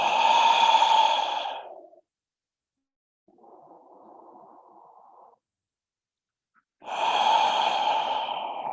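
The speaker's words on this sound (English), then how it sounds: "few deep breaths here." Deep, slow breaths during a mindfulness yoga stretch: a long breathy inhale, a quieter softer exhale, a silent pause, then another long inhale, close and alone.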